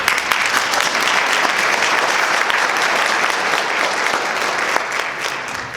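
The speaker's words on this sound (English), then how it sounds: "If you wouldn't mind holding your applause till the very end" Loud, close audience applause at a town council candidates forum in Fountain Hills, Arizona, a dense continuous roar of many hands clapping that runs steadily throughout and thins slightly near the end.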